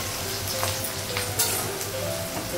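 Potatoes and onions frying together in a pan, a close, constant sizzle with a few light stirring clicks over a couple of seconds.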